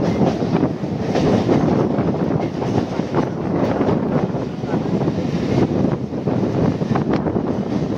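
A train skipping through Belanagar station without stopping, a steady loud rumble of wheels and carriages with wind buffeting the microphone throughout, recorded on board.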